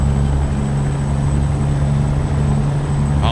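A C15 truck engine in a video game drones at a steady, loud idle-like hum with a constant low rumble and a thin high whine, unbroken and with no talk.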